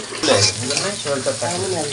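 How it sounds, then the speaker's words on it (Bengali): Chopped onions frying in oil in a pot over a medium flame at a bachelors' picnic cookout, a steady close hiss and sizzle running throughout beneath a voice talking. "তেল, তারপর পেঁয়াজ কুচি দেওয়া হয়েছে"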